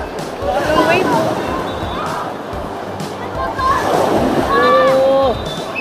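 Strong waves splashing and surging at the water's edge during a child's seventh birthday outing, with bursts of rushing water between excited voices and shrieks of people talking nearby.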